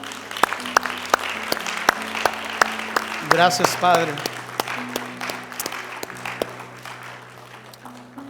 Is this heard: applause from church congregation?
yes